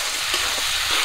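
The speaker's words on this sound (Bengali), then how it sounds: "সব কিছু মশলা দিয়ে আবারও কিছুক্ষণ একটু ভাজা করব।" Spice paste of ground cumin and dried red chilli fries in a pan for a jackfruit curry, giving a loud, even sizzle with faint stirring.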